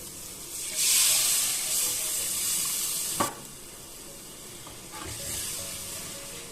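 Coconut second milk pours into a village-style Kerala fish curry, setting off a loud hissing sizzle that rises and settles, with a sharp clink midway and continued bubbling simmer afterward.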